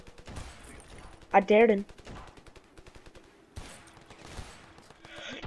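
Rifle fire from an AK in the video game Ravenfield sounds as a quick burst of automatic shots mixed with other distant game gunfire, while a player talks over it.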